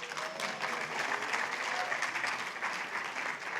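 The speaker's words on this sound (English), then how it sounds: "You're supposed to clap now" An audience at a DevFest Lagos tech talk claps steadily for about three and a half seconds, a dense, even wash of many hands in a large room with no voices over it.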